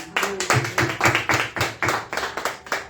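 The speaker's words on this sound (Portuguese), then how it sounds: "Vamos aplaudir ao Senhor." A small group at a church service claps steadily and rhythmically, a quick run of hand claps close by with no talking.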